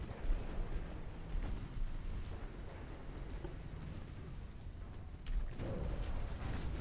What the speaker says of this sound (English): We scored a torpedo hit on an enemy cruiser.